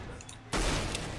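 A single sharp sniper rifle shot in Minecraft MineStrike bursts out halfway through after a quiet lead-in, loud and close, with a broad noisy tail.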